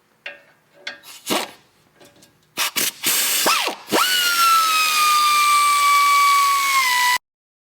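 Ratchet loosening a brake line fitting on a Toyota FJ during a lift kit install, a series of sharp close clicks building into a sustained, loud whirring mechanical run that stops abruptly.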